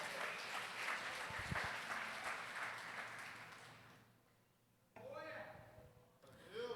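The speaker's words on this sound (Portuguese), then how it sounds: "Aplaude ao Senhor porque Ele é digno." Congregation applauding during an evening church service, a fairly quiet wash of clapping for a few seconds that fades out before a voice and music take over.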